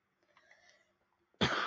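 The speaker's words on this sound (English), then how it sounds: "Sorry for the coughing." A person coughs once, a harsh close burst near the end after quiet, faint murmuring and breathing.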